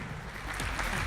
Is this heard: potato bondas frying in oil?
no